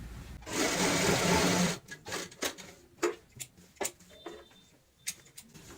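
A sewing machine runs in one steady, loud burst of stitching while a fabric strip is attached to a cushion cover, then stops. Scattered clicks and handling taps of the fabric and machine follow.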